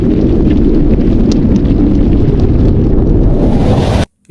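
A fire extinguisher discharges at a fire in a steady, loud, close hiss of rushing spray that runs for about four seconds and then cuts off abruptly.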